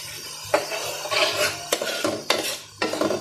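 A spoon scrapes and stirs yogurt into a black pepper spice masala for chickpeas in a pot, in several distinct strokes with soft wet clatter between them.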